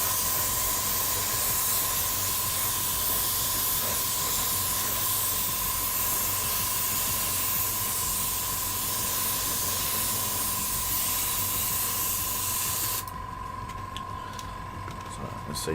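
Airbrush spraying green paint onto miniatures hisses in a steady broadband rush through most of the stretch, cutting off near the end; a constant tone runs underneath throughout.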